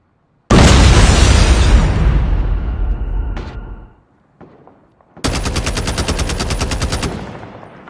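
A DR-H (SCAR-H) battle rifle in COD Mobile fires a loud automatic burst with a long booming tail, then after a brief pause unleashes a second rapid, evenly spaced string of close, punchy shots.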